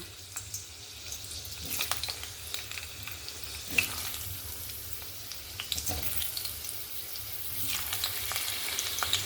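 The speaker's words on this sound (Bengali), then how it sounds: "তেলটা গরম হয়ে গেছে। এবার আলুগুলো আমি ভেজে নেব।" Continuous crackling sizzle of large-cut potatoes for mutton curry frying in hot oil, with occasional louder pops and stirring clinks, fairly close.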